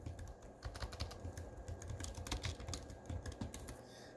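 A recipe name is typed on a computer keyboard, a quiet, close run of irregular key clicks and taps in uneven bursts with no voices.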